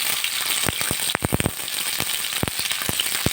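Tomatoes, green chillies and onions fry in a little oil in a pan, a continuous close sizzle broken by a quick run of sharp crackles and pops.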